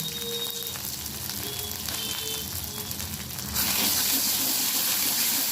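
Ground cumin and turmeric frying in a pan give a soft, continuous sizzle and crackle, then a louder rushing hiss near the end as the sizzling swells.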